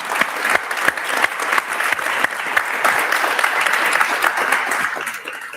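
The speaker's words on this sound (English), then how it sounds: "Shall we give a round of applause to our panellists?" An audience at a foreign aid discussion event claps for the panellists, with loud, dense applause rising from scattered sharp claps into a sustained roar, then easing slightly at the end, with no talking over it.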